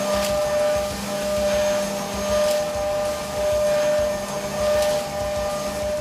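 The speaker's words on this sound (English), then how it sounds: "The way the toolpath cuts and the sound, it really shows that it's effectively using the machine tool." A CNC machine mills with a Surfcam TrueMill toolpath, producing a steady, loud whine with a sharp tonal hum over broadband rushing noise that swells gently, with no voices.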